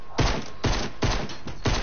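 Shotgun fire in a Fortnite match: four loud, punchy blasts land at an even pace about half a second apart, close by, with no talking between them.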